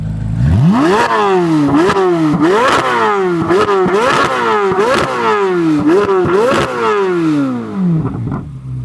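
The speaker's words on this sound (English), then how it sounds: "Holy crap, that's what my car sounds like?" A Lotus Emira supercharged V6 engine revs hard in repeated rising bursts, each climb snapping off and building again in a rapid sequence, close and continuous throughout.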